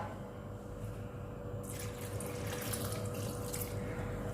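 Half a cup of water splashes and pours steadily into a cooking pot of clam meat and spices, starting partway through, a bright rushing stream over a low hum.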